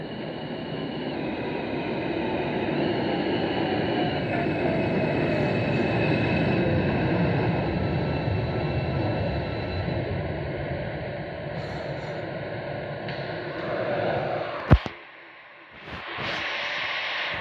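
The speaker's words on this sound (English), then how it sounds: "this is a Coney Island bound Q train" A New York R160 subway train in a train simulator game departs West 8th Street, rumbling and hissing steadily, its broad roar holding before a sharp clunk and a sudden drop, then a faint rise.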